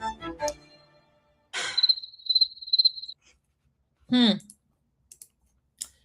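A cricket chirping effect sounds as a sustained high, pulsing trill, set between brief bursts of talk and a few sharp clicks in an otherwise quiet gap.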